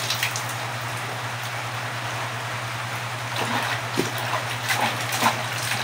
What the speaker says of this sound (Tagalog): Outside is raining.